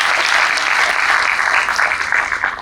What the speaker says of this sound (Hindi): आप सब भी एक बार ताली के साथ उनका स्वागत कीजिए।